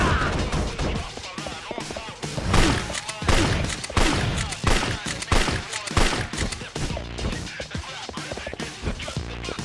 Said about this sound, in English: We're gonna shoot at you now.